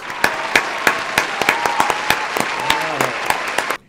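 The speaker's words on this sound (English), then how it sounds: "Let's give a big round of applause for Ms. Maddox, please." Applause at a school morning announcement, welcoming a substitute teacher: a steady crowd clapping with a scattering of loud individual claps standing out, kept up for about four seconds and then cutting off sharply.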